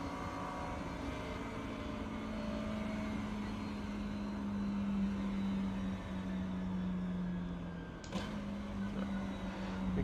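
A McLaren MP4-12C GT3 engine in iRacing hums at a steady, moderate pitch on the Nordschleife as the throttle is lifted. It winds down and then picks up again near the end, with no voices over it.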